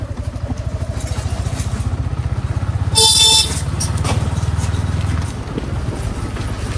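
A learner rides a motorcycle slowly. The engine's low, steady putter runs throughout, and a short, loud horn honk sounds midway before the motor continues alone.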